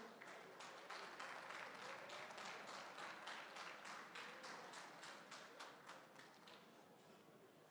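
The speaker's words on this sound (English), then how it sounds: "Give them a round of applause as they come" Applause at a soccer awards ceremony, a modest quiet round of scattered clapping that builds into a rhythmic patter and then fades, heard from a distance.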